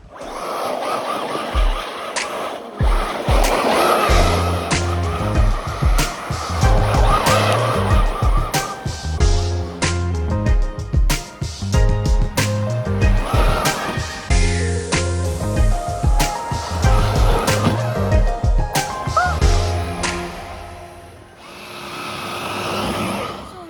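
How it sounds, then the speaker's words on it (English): Arrma Senton 3S RC car driving through snow, its electric motor whining and revving in repeated loud bursts with tire spin and skidding, close by and continuous for most of the run before easing off at the end. "Now we're gonna drive with the Arma Senton 3S."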